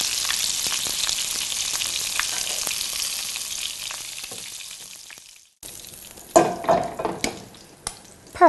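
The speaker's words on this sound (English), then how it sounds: "in go our meatballs, and they finish cooking in the tomato sauce" Meatballs dropped into a pot of simmering spicy tomato sauce: a steady sizzle gives way to a brief pause, then several wet plops and bubbling bursts as they go in, close by.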